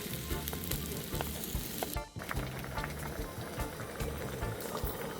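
Steady sizzling and crackling of food frying in hot oil, continuous and close, with a short quiet dip partway through and no voices.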